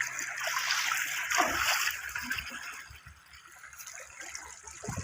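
Irrigation water flows into a wheat field with a soft, continuous rush and trickle, fairly quiet and outdoors, with a few faint splashes and low thumps along the way.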